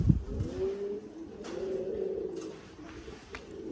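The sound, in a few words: pigeons cooing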